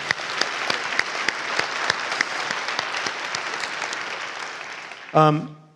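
An audience at a church service claps steadily for several seconds, fairly loud and sustained, ending as a voice begins speaking.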